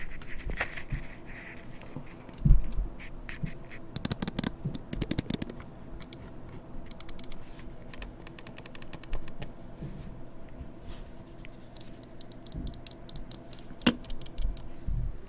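Quiet, sharp plastic clicks from an Xtrfy M4 RGB Wireless mouse's buttons, tapped in irregular bursts, some rapid clusters and some single presses, close by over faint background hiss.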